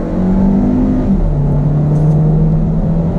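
A 2019 Hyundai Kona Iron Man Edition accelerates hard from a roll, its engine note droning steadily with a rising then settling pitch, heard close from inside the cabin with no talk.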